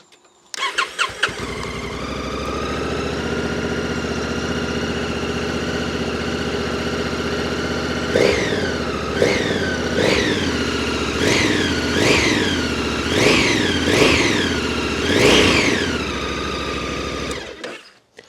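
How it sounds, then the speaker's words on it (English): A Honda Africa Twin motorcycle's parallel-twin engine cranks and fires, settles into a steady idle, then gets blipped in a series of about eight sharp revs before shutting off, loud and close. "Now the Africa Twin uses a parallel twin engine."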